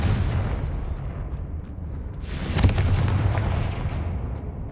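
Confringo fire spell blast in Hogwarts Legacy, a loud booming explosion bursting out over a rumbling low background, then a dense crackling roar that slowly settles.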